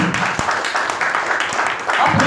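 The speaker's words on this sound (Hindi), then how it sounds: "आप यीशु के लिए ताली बजा रहे हैं" A church congregation applauds for Jesus during a Palm Sunday sermon, a steady wash of many hands clapping throughout, swelling louder near the end.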